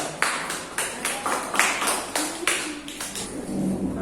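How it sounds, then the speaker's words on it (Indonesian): A school math class claps for their own group, a soft, uneven patter of hand claps from several students, fairly quiet and close, with no talking on top. "tepuk tangan untuk kelompok kita"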